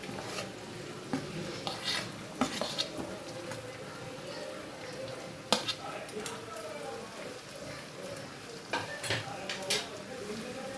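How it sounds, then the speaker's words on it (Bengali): Metal utensils clink and scrape against a pan as fried potatoes are stirred into lemon chicken, with a soft sizzle underneath and scattered sharp knocks throughout. "দিয়ে আবারও চিকেনের সঙ্গে ভালোভাবে মিশিয়ে নিচ্ছি"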